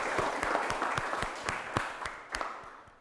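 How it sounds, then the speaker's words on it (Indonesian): A classroom full of students applauding a student group, steady hand-clapping with distinct rhythmic claps over a dense patter, fading slightly toward the end. "Tepuk tangan dulu buat kelompok ini."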